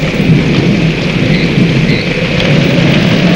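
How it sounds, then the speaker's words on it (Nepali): Heavy rain pours down in a violent thunderstorm, a loud, dense and continuous roar of rainfall with rumbling thunder blended underneath, no voices heard. "यस्तो हुरी पानी बिजुली कड्केको मैले कहिले पनि देखेको थिइनँ।"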